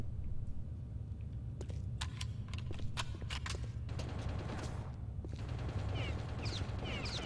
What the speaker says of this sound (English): Somebody's still shooting.